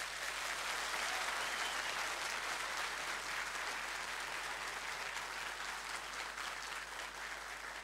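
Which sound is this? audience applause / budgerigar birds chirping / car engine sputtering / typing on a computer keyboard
audience applause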